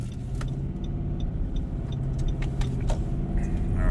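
A truck engine revs up while driving up a road, a steady mid-pitched rumble building slightly in loudness near the end, with no talk over it.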